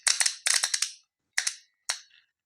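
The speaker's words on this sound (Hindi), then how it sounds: "ये देखिए ये सप्लाई से जोड़ते ही ये आवाज़ खट से आई, और ये देखिए प्लंजर जो है अंदर की तरफ खिंच गया।" An electrical contactor snaps shut as its coil is connected to supply, with a series of sharp, close mechanical clicks in clusters followed by two single clacks, loud and dry against silence.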